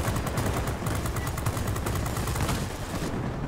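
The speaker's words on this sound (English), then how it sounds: "It looks like I'm going to have to rely on my brute force 37mm cannon to blow frickin' planes up." Rapid bursts of a 37mm aircraft cannon in an aerial combat video game, dense continuous thudding fire filling the whole clip, loud and close with no voices.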